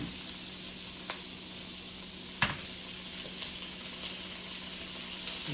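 Pork neck bones frying in a pan, a steady close sizzle with a few soft clinks of stirring, no voices.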